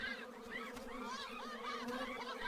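A dense, steady buzzing of many bees, wavering in pitch, continuous throughout and fairly close.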